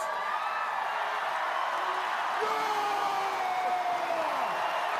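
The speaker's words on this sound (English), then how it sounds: "Just listen to that crowd reaction" Studio audience at a Survivor All-Stars reunion show reacting to a contestant with steady, loud crowd noise, cheering and whoops that swell and hold throughout.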